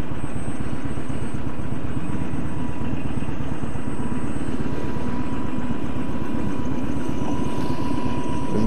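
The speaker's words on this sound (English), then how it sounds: "You get to see a helicopter take off." A tour helicopter spins up to take off near Mt St Helens. Heavy rotor chop throbs steadily in the low range from a moderate distance, with a faint turbine whine above it.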